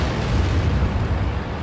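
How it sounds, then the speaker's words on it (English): Rumbling artillery blast in a tank video game featuring the AMX 30 and AMX 30 B, a loud sustained low boom filling the whole moment without speech. "We do have artillery."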